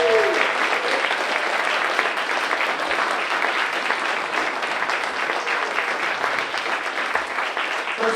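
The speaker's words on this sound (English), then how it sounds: "can we get one more round of applause for" A full room claps steadily at a public talk and Q&A event, the applause sustained and even for several seconds with no voices on top.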